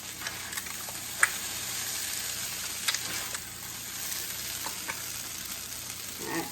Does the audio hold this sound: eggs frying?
yes